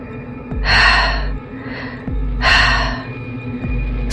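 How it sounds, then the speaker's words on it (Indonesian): Heavy, rough breathing close up, two long rasping inhales with low throbbing exhales between them, slow and labored. "terdengar suara napas. Berat, kasar, dan basah."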